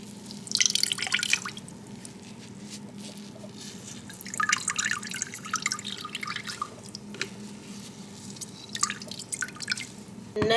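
Juice squeezed through a cloth drips steadily into a container, close and quiet, with scattered wet drips and trickles of varying pace and no talking.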